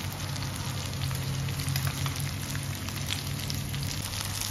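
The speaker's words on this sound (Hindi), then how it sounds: "अब दूसरी तरफ को भी अच्छे से शैलो फ्राई होने देंगे।" Potato and cauliflower sabzi shallow frying in a pan, giving off a steady, dense sizzle with a continuous crackle and no breaks, close and even in level the whole time.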